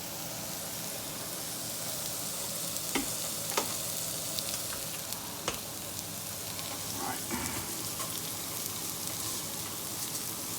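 An onion sautés in melted fat in a pan, a steady close sizzle running throughout with a few scattered clicks and scrapes of stirring.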